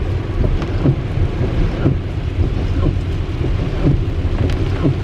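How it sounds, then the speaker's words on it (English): Heavy rain pounds a car while driving through a flash-flooding morning storm, a dense steady roar of drops on the roof with low thunder rumbling underneath, no voices. "We just happened to drive through some of the worst rain this morning."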